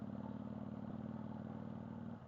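A Kawasaki VN800 motorcycle engine with freshly tuned carburetors chugs in first gear at very low revs, a steady, close, even-pulsing V-twin throb with slight mechanical clatter.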